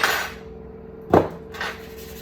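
Air-fried food is tipped from a basket into a small modular pan, giving one sharp metallic clatter between softer kitchen clinks, close and otherwise quiet.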